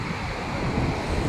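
Sea waves surge around a small boat as two men push it through the surf, with a constant rushing roar and heavy wind buffeting close to the microphone.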